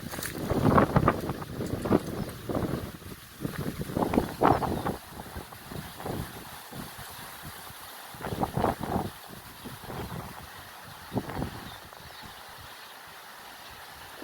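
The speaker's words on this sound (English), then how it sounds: "I'm purposely not filtering the wind because I want you to hear it." Strong wind gusting up to 40 mph roars and buffets the microphone in rising and falling gusts at Antelope Lake County Park, Kansas, loud and rumbling with no voices.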